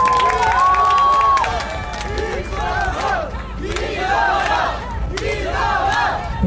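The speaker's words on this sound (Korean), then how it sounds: "우리 후보를 위해서 큰 박수 한번 보내주십시오" Crowd at an outdoor election campaign rally near Yonsei University and Sinchon Star Plaza in Seoul cheering, shouting and applauding loudly, with rising roars, whistle-like cries and overlapping voices filling the clip.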